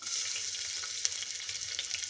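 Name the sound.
chopped onion frying in hot oil in a cooker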